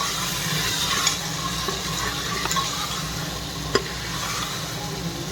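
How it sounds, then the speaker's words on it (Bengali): Potatoes for aloo matar fry in a pressure cooker with a steady, close sizzle. A few faint clinks of stirring sound through it, and no one speaks. "আলু দিয়ে দিলাম"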